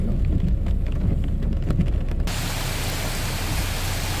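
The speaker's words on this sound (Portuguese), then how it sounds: "olha só o aguaceiro descendo aqui" Heavy rain pours down onto a street in Porto Alegre during a cold-front storm, a dense, steady hiss of water that grows broader and fuller partway through and continues without pause.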